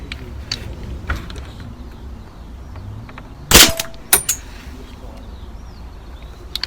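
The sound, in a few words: pellet gun firing ball bearings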